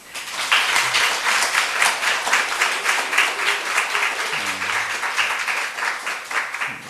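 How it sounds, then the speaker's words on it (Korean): A church congregation applauds a newly married couple at a Sunday service, steady sustained clapping from many hands filling the room for several seconds, with a brief low voice murmuring underneath. "여러분 박수 한번."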